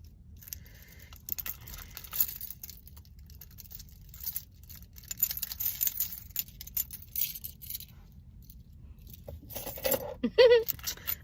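A bunch of keys jangles and clinks in irregular bursts while being handled up close, with rustling of other items mixed in and a sharper metallic rattle near the end.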